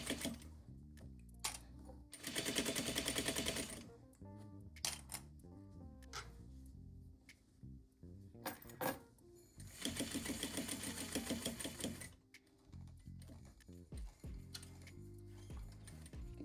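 A sewing machine stitches a zippered pouch in bursts of rapid mechanical whirring, pausing between runs to pivot and reposition the fabric, with clicks and handling noises in the gaps.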